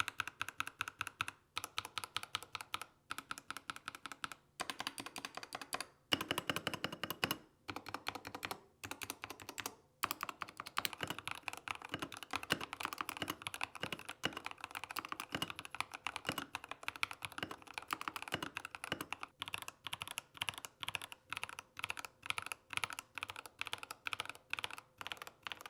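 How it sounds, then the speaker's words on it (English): Typing on a Tecware Phantom 87 Plus Elite mechanical keyboard: a steady stream of close, crisp key clacks at fast irregular rhythm, with brief pauses between bursts and no talking. "Take a listen to the Tecware Phantom 87 Plus Elite."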